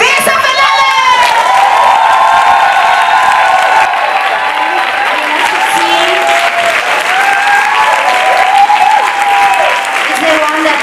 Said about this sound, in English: A big applause for Veza Fernandez!